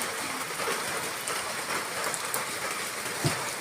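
Steady rain falling and pattering on surfaces beside a flooded kitchen area and vegetable garden with eggplant plants, a continuous even hiss with one brief thud near the end, no voices.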